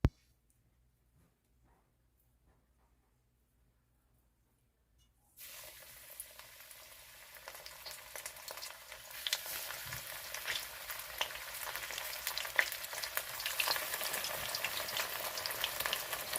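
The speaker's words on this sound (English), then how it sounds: "let's go ahead and get these oxtails seared." Seasoned oxtails sear in a lightly oiled pan, starting after about five seconds of near silence into a steady, close, bright sizzle and crackle that builds slightly and holds to the end.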